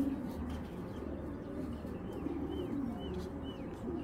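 Pigeons, including a large female, coo steadily in a low, continuous murmur close by, with a few faint higher chirps over the top and no talking.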